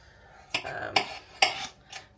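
Potatoes are chopped on a board in a home kitchen, with four sharp knife strikes spaced about half a second apart and a short clattery ring after each.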